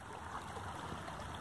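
A stream flowing along a hiking trail, with a steady rushing, burbling wash of water close by that holds an even level for the whole short stretch, no voices over it.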